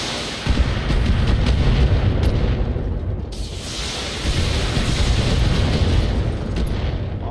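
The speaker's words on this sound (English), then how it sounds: "now our friendly turrets are going to get to shoot us and shoot them" Turrets in Battletech fire a barrage of heavy booming shots, dense overlapping blasts and rumbling impacts that swell, dip briefly, then build again, loud and close throughout.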